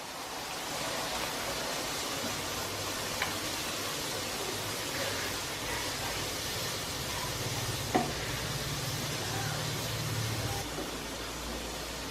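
Boiled mutton stirred into a frying masala for Chettinad mutton chukka, giving a steady, fairly loud wash of sizzling throughout with a couple of faint clicks of the spoon and no talking.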